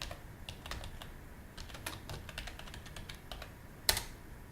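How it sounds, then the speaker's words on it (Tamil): Someone types an address on a computer keyboard, giving quick, irregular key clicks up close at a soft level, with one sharper louder keystroke near the end; no one speaks. "அட்ரஸ் டைப் பண்ணுறேன்."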